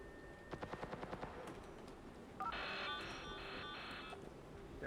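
A quick, rhythmic burst of SMG fire in a video game, about eight close, fairly faint shots, then a sustained electronic tone from the game with no voices.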